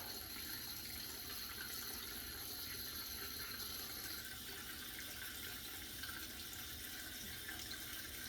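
Cold water runs from a sink tap in a steady, faint, broadband hiss with no talk, unchanging for the whole stretch.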